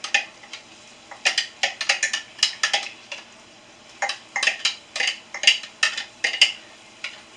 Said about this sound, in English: So we're using butter and stirring it.